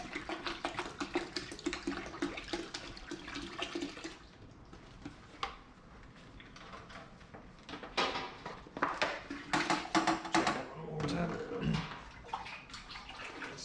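Water pours and splashes into a pot for brewing beer, a steady rushing stream that breaks off midway, then returns with clanks and sloshing from near the vessel.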